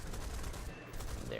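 A Mk.IX Spitfire's guns fire in War Thunder as a short, dense burst of rapid shots, heard faintly at a distance.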